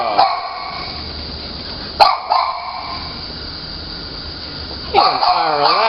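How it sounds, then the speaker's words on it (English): A year-old, 40-pound shelter dog barks in a few sharp bursts, near and loud, separated by quieter stretches of background noise. "She's a pretty dog."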